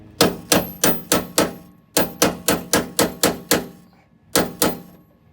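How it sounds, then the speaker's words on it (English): Hammer blows on a tapper punch denting metal on a Jeep Wrangler JKU, a quick even run of sharp metallic strikes in three bursts with short pauses between, close and loud. "I'm gonna use my tapper and I'm gonna hit this even harder"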